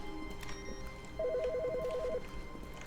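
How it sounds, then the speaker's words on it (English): Telephone ringing in the game The Stanley Parable, a short trilling ring pulsing quickly for about a second over a quiet office background, fairly faint and unaccompanied by talk. "There's a phone call?"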